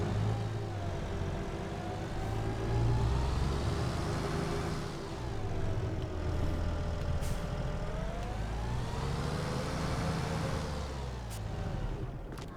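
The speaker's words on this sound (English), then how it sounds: "we'll go put the Lamborghini away for now" A Lamborghini tractor in Farming Simulator 22 drives along, its engine humming steadily with gentle rises and falls in pitch, fairly quiet and without talk.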